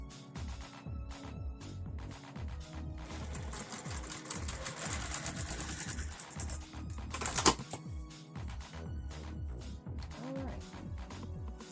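A sewing machine stitches strips of white fabric with black thread in a steady rapid mechanical chatter, running in bursts with brief pauses and a sharp clack partway through.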